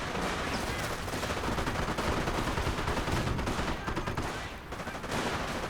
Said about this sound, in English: Greyhound firing away from the high ground